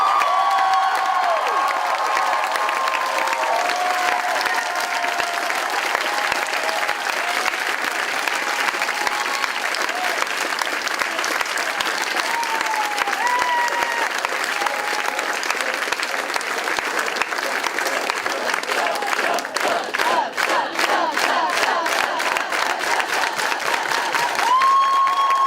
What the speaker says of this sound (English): Can we get a round of applause for Dr. Doug?